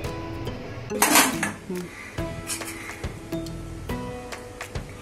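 A lid is clattered and locked onto a metal cooking pot of stuffed eggplant curry, with sharp clinks and one louder metallic clash near the start, then scattered knocks; a voice talks quietly underneath.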